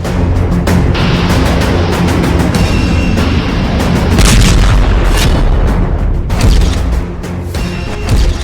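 Missile strikes in the Iran–America conflict boom and crash in loud, continuous rolling blasts, with overlapping heavy impacts and rumbling explosions filling the whole stretch.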